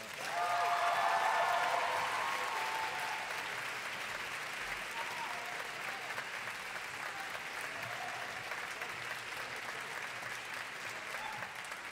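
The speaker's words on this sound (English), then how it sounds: "Please give them a round of applause." An audience applauds a school quintet after a spring instrumental concert. The clapping is full and sustained, loudest at the start and then holding at an even level for about twelve seconds.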